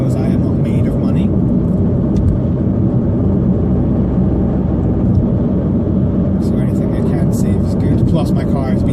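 A petrol car with high fuel consumption cruising at speed in sixth gear on a main road, a loud, steady low engine and road rumble continuing without a break, with faint higher rattles near the end.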